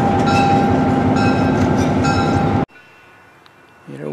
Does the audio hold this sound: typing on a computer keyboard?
no